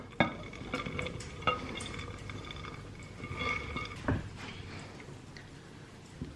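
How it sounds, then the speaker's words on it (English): A wooden spoon stirs fruit through a stiff Christmas cake batter, giving soft irregular scrapes and a few sharper knocks against the bowl, close and fairly quiet with no talk. "So we're just going to stir it through, incorporate it with the cake mix."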